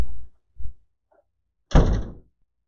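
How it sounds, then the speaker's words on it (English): A restroom door is pushed shut, with two soft thuds followed by a louder closing thunk and latch that ring out clearly in a quiet room. "So I'm going to go ahead and close the door for you, Char."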